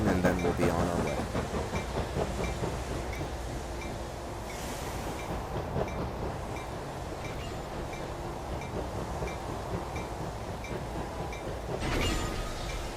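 A freight train of three boxcars and a caboose couples up and rolls along in the High Iron train simulator, giving a continuous low rumble with wheel clatter and a brief clank near the end.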